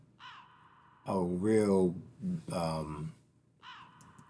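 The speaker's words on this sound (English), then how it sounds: "Somebody must have kidnapped a bird and put mics around it" Crow-like cawing bird call used as a sample in a music production, dry and close, with a short call at the start and another near the end, while someone talks loudly over the middle.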